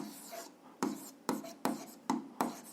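Handwriting during a physics lesson: about six quick scratchy pen strokes, close and distinct, in an uneven rhythm with short pauses between them.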